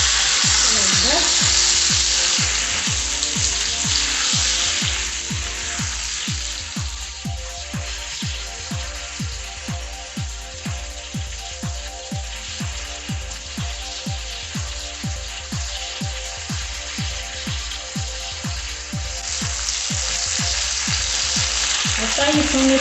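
Beef sauce frying in a pan, a loud, continuous close sizzle with a steady pulsing rhythm throughout, no voice heard over it.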